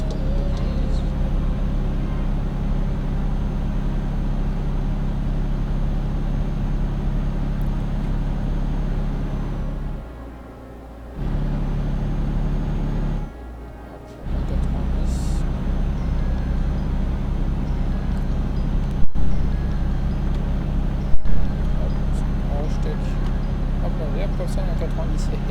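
A truck drives in the video game Euro Truck Simulator 2, a steady low engine drone with road rumble running throughout, briefly dropping out twice, while someone talks over it.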